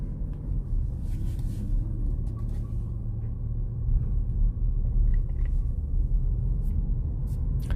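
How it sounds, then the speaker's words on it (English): A 2023 Toyota RAV4 Hybrid Woodland Edition engine idles in eco mode as a low, steady, muffled rumble with faint interior clicks and no talking. "This motor sounds better than I remember it sounding in other Toyota"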